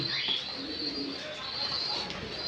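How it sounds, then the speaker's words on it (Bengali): Red Lahori pigeons coo softly in a steady, low murmur, with faint chirps layered over light background noise and no speech. "ভালোবাসার একজোড়া কবুতর আজকে চলে যাচ্ছে"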